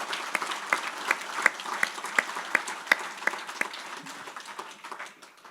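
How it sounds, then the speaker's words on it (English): A crowd applauds at a golf hall of fame induction ceremony, with scattered sharp claps standing out, steady for several seconds and then tapering off. "Another round of applause for three great inductees."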